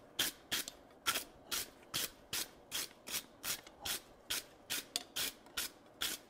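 A brush scrubs over forged box jaw tongs in a forge setting, giving crisp, rhythmic back-and-forth strokes of about two or three per second, close and even.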